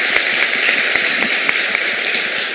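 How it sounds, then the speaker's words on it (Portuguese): A live audience applauds a 14-year-old boy with a dense, steady patter of many hands clapping that stays loud throughout. "Uma salva de palmas para o garoto de 14 anos."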